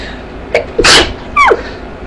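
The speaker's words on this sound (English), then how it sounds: "I have a little itty bitty sneeze" A small, high-pitched sneeze comes close and loud, with a quick intake and a squeaky burst, then a short breathy sound after it.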